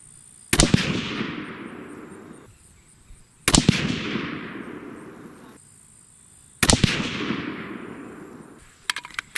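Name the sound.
Savage 12 rifle firing 6.5 Creedmoor three-shot group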